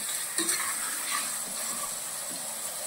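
Country chicken pieces sizzle steadily in a pan while being stirred with soft scraping clicks, a continuous close frying hiss with no talking.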